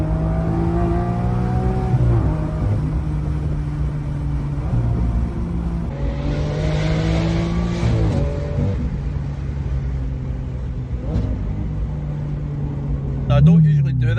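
Lamborghini Aventador V12 engine revving, rising and falling in repeated swells with a deep rumble and whirring harmonics, loud and close throughout, ending with a sharp burst of mechanical clatter.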